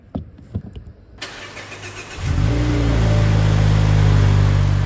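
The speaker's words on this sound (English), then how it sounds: "From the moment you start up the Mazda 3, it sounds like a blast from the past" A 2025 Mazda3 with a naturally aspirated engine and manual gearbox cranks briefly after a few soft clicks, then catches and settles into a steady, loud idle close by.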